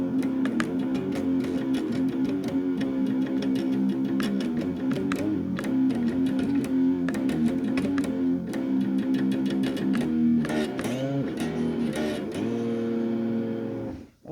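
Distorted electric guitar in a low sludge tuning chugs through a thrashy metal riff, dense and continuous with heavy palm-muted rhythm and a few sliding accents near the end, loud and unaccompanied by speech.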